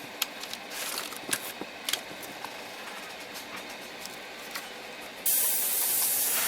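Airbrush loaded with Model Castin Power Orange paint thinned with Mr. Color Leveling Thinner, giving scattered clicks and light hissy bursts before a sudden steady, loud, close spray hiss starts near the end, without speech.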